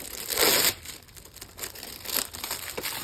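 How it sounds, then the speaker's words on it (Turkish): Plastic film crinkles loudly as it is peeled off a new Aigo A100 mechanical keyboard with yellow switches, starting with a strong rustling burst and then continuing as softer, uneven crinkling handled up close. "Yine burada bir jelatinimiz var."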